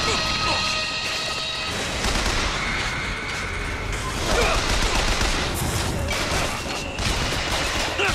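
Gunfire and explosions from Bioshock Infinite erupt in dense bursts of shots and booms, loud and continuous over game music and effects, with voices talking over the action.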